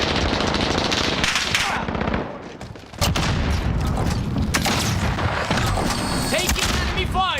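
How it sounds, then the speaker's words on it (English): Rapid bursts of automatic gunfire from enemies in a military shooter video game, loud and continuous with a short lull midway, then sustained firing resumes with ricochet-like whistles near the end. "Taking enemy fire!"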